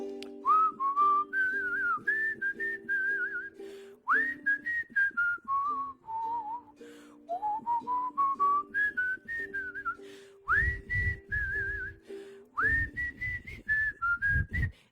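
Someone whistles a bouncy melody alone, with clear, wavering notes in phrases, while a muted accompaniment and occasional low thumps play underneath.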